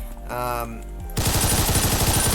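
A scoped SMG in Ragdoll Universe opens up after a short tonal game sound, firing a loud, continuous rapid burst of close automatic shots that runs to the end.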